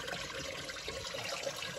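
Small bubbles of air hissing out through a needle vented into a walleye's body on a fishing boat on Lake Diefenbaker, making a steady, close, fine watery fizz.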